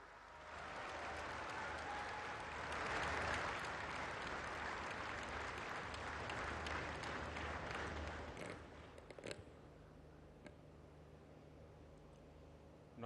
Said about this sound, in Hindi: माननीय प्रधानमंत्री जी श्री नरेंद्र मोदी जी को आइए जोरदार तालियों के साथ आमंत्रित करते हैं